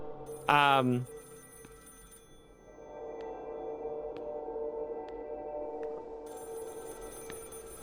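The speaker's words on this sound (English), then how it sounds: "There's a phone ringing this time." A telephone in the video game Project Looking Glass gives one short, loud electronic ring, followed by a faint sustained tone and quiet hum.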